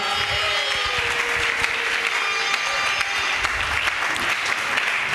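A church congregation applauds loudly to acclaim Jesus, dense sustained clapping from a large crowd filling the room without pause.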